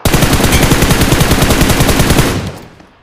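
Rapid automatic gunfire from a BGMI match, a loud sustained burst of closely spaced shots that runs steadily for over two seconds and then tails off abruptly.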